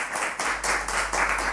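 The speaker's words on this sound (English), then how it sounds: "Put your hands together for Prof." A studio audience at an economic investment forum claps for a presenter joining from North America, with dense, steady applause at moderate volume that continues throughout and no talking over it.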